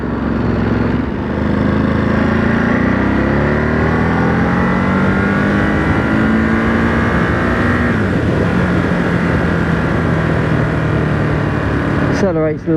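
A 2023 Ducati Monster SP motorcycle accelerates with a loud, steady engine drone whose pitch climbs smoothly for several seconds, eases, then rises again under constant wind rush.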